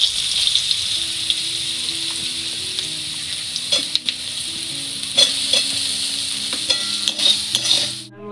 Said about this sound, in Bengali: এক এক করে এবার বেগুনগুলো দেবো তেলটার মধ্যে।